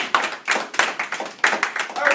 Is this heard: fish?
no